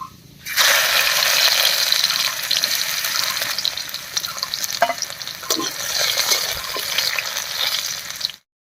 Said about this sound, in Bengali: রসুনটা দিয়ে একটু নাড়িয়ে নিয়েছি